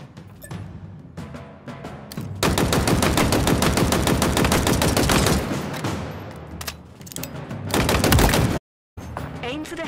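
Rapid automatic weapon fire from Halo Infinite, dense sustained bursts that are loud and close, broken by short gaps and one abrupt silent drop near the end, with no voices.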